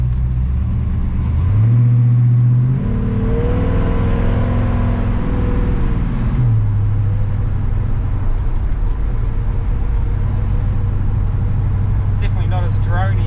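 A 1946 Chevrolet pickup with a 350 small block V8 drives along, its engine note rising and holding steady as the truck accelerates, a loud continuous drone inside the cab beneath a voice talking.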